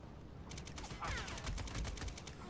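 Rapid bursts of automatic gunfire in the Army of Two video game, a dense fusillade of repeated shots rattling steadily through the whole stretch, loud and close.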